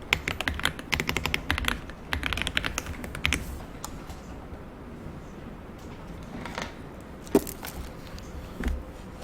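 Rapid bursts of typing clatter from a computer keyboard as a file name is entered, dense at first and then thinning into scattered single key taps and a few louder clicks, close and clear with no talk.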